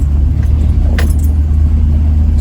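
A car rolling slowly over rough, rocky ground in a remote canyon, a steady low engine rumble with faint rattles and a brief clatter near the middle.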